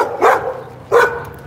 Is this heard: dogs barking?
yes